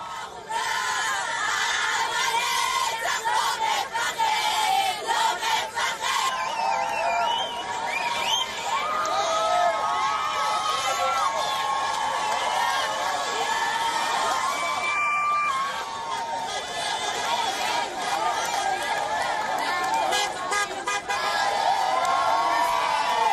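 A large crowd cheers, shouts and whistles as vehicles carrying released Israeli hostages arrive, a loud, dense, sustained roar of voices with rising bursts of excitement and no break.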